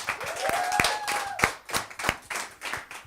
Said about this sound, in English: Let's clap for Friday.